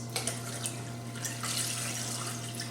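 Cold water runs steadily into a container while prickly pear lemonade is being made, a continuous close splashing pour with a low hum underneath and no talk.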